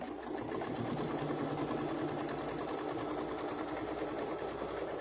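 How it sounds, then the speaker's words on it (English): A machine sews two fabrics together on a potholder in one loud, continuous, evenly paced stitching run with no pauses. "we're going to stitch them in place."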